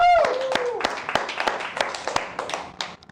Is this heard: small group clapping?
yes